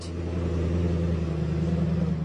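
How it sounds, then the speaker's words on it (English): A fancy car arriving at an on-site parking lot produces a close, steady low engine rumble with a slight rise in revs, continuous for a couple of seconds and without talk. "Others arrive in fancy cars, which will fill the on-site parking lot."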